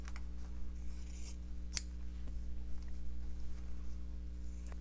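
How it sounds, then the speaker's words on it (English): Scissors snip through embroidered fabric along a traced shape, making faint, sparse crisp cuts over a loud low steady hum. "I'm going to cut it out just to that shape that I traced out that will fit on my card."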